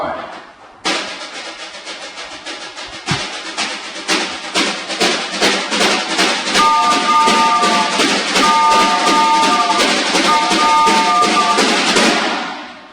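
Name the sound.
percussion imitating a choo-choo train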